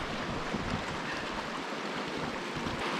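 River water rushing between rocks on a farm, a steady broadband wash of flowing water, constant and fairly faint, with no voices.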